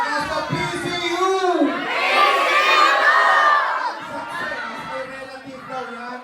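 A large crowd shouts and cheers loudly together, voices swelling to a roaring peak before easing into mixed yelling and chatter.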